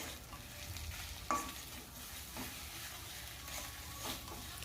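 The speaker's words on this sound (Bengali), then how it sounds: "আমি একসাথে ভেজে নেওয়া পটল আর চিংড়ি মাছটা দিয়ে দিচ্ছি" Fried pointed gourd and prawns added to a pan, giving a soft continuous sizzle with a brief clink partway through, close but fairly quiet and without speech.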